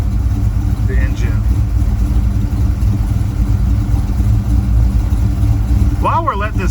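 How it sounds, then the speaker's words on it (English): A 1985 Chevy C10 pickup engine idles with a steady low rumble close by throughout, while a voice briefly speaks near the end. "It's just the rumbling of the engine."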